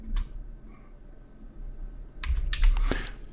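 Typing on a computer keyboard: a few sparse clicks, then a quick cluster of keystrokes near the end, close and fairly quiet, with no talking.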